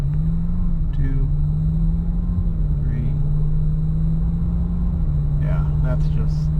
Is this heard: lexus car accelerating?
yes